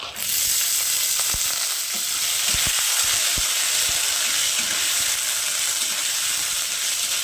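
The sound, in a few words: soaked chickpeas frying with garlic in oil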